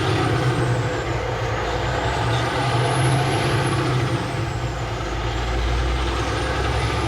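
A heavy truck rolls past nearby in steady road traffic, its engine rumble loud and continuous with a hiss of air brakes mixed in; no voices.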